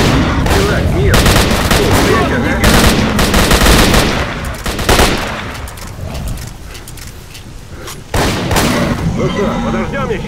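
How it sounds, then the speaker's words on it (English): Gunfire rings out in the shooter game STALKER Call of Pripyat, with loud, close bursts of blasts, a shotgun among them, packed densely at first and then returning after a short quieter stretch. "Gotta be careful with this shotgun, because sometimes you can fire several times, and I could hit someone else"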